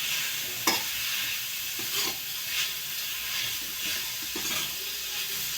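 Paneer bhurji is pressed and stirred in a pan over a low flame: a steady, close sizzle with occasional scraping strokes of the spoon.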